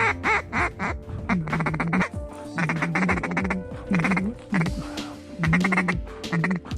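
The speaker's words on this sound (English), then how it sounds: "Ducks and geese." Ducks quacking in a free field during a hunt, repeated raspy calls in rhythmic bursts, loud and close, with several birds calling over one another.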